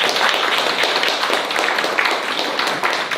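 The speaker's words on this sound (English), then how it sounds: "So let's give a round of applause for Sayun." Audience applause at a film industry panel on Indigenous Taiwan, steady dense clapping from a crowd filling the whole stretch at even loudness, with no talk over it.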